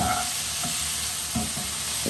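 Salted vegetables fry in a pan with a constant close hiss and sizzle, broken by a couple of brief stirring scrapes, loud and with no one talking.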